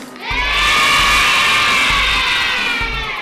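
A roomful of people cheers and shouts loudly and steadily for a few seconds at an amateur radio event, a dense wall of voices with a few low thumps underneath.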